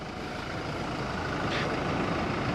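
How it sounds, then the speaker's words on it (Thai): A train runs behind a parked Toyota Revo Double Cab Prerunner pickup, giving a steady, loud, dense rumble that fills the whole stretch without a break and without any voices. "มีรถไฟวิ่งด้านหลังด้วย"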